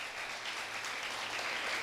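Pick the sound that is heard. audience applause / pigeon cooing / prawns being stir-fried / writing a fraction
audience applause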